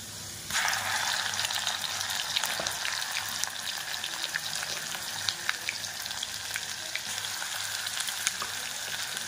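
Browned onion with masala added fries in a pan, starting with a sudden loud sizzle that settles into a steady close crackling hiss with scattered pops, no talk.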